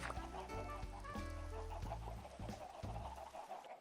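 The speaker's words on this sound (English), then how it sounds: "Whoa, what's going on with these chickens?" Several chickens cluck and squawk close by in a busy, overlapping chorus, with repeated harmonic calls rising and falling throughout and no talking.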